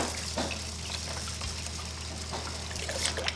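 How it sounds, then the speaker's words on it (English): Broth pours into a pot of lentils with Italian seasoning, salt and pepper, giving a soft continuous trickle and splash close by over a low background hum. "Going to add some broth."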